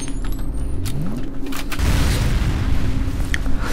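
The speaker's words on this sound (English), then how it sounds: "Slow motion grenades is actually very helpful because I can time it much better" Slow-motion grenade blast in the shooter game F.E.A.R., a deep drawn-out boom that swells and rumbles low for several seconds, loud and alone without talk.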